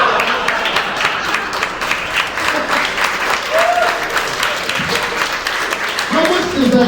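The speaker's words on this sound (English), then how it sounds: "How much does that clapping hurt?" Comedy roast battle audience applauding and clapping, a dense, steady wash of many hands filling the room, loud and close, with some crowd noise mixed in.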